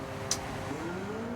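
A front-engine rear-drive race car in Gran Turismo 7 drones steadily at Red Bull Ring in torrential rain, its engine note rising gradually, with one brief sharp high click near the start.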